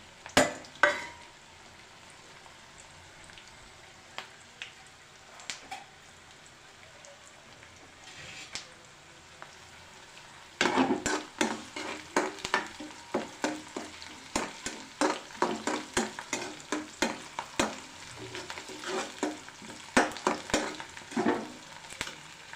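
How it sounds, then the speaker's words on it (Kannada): Chopped onions and curry leaves hit a hot pan. A quiet lull gives way to loud, continuous sizzling with sharp crackles and stirring clatter. "ಇವಾಗ ಈರುಳ್ಳಿ ಹಾಕ್ತಾಯಿದ್ದೀನಿ ಕರ್ಬೇವಿನ ಸೊಪ್ಪು ಹಾಕ್ತಾಯಿದ್ದೀನಿ"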